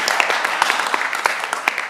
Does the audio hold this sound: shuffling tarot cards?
no